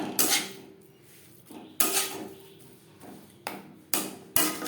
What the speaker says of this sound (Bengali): আমি খুন্তি দিয়ে বেশ ভালো করে মিক্সড করে নিলাম।